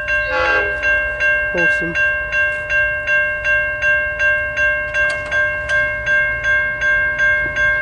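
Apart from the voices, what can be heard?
Warrnambool freight train passing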